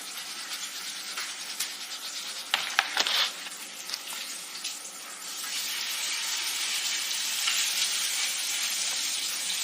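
Hot oil sizzles while chicken fries, a steady crackling hiss with a few sharper pops early on, settling into a continuous, even sizzle that grows slightly fuller toward the end.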